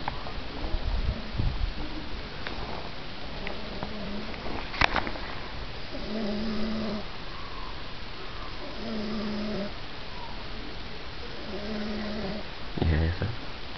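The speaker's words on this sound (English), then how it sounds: "Listen to yourself snoring." A man snoring in a room, with several throaty, rasping snores arriving about every three seconds over a steady background hiss, plus a sharp knock near the middle.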